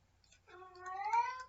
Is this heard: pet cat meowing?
yes